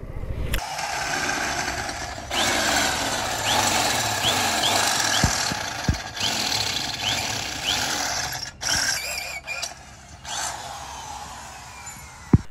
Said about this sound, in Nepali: अनि मैले चाहिँ एग्जस्ट लगाइसकेँ। साउन्ड चाहिँ यस्तो लाउड छ